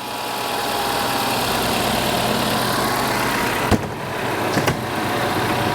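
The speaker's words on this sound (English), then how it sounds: "They are smooth running engines for sure" A Mazda CX-90 engine with freshly replaced spark plugs idles smoothly and evenly at close range, a steady hum broken by a couple of brief clicks or knocks near the end.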